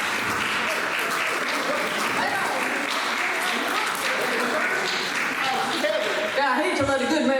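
Sustained audience applause greeting a storyteller, loud and even across the whole stretch, with a voice beginning to speak over it near the end.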